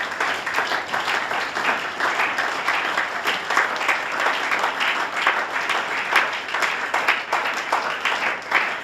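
A church congregation breaks into steady, sustained applause during a French-language sermon, the dense clapping holding an even level throughout with no clear speech above it.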